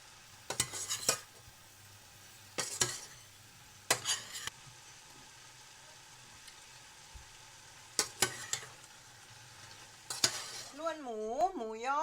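A spatula scrapes and clatters against a pan in short bursts every couple of seconds over a faint, steady sizzle of pork sausage and hot dogs stir-frying.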